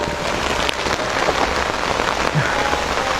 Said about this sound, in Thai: ตอนนี้ก็ฝนตกหนักนะ